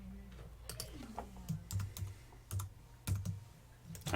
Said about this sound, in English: Type in there.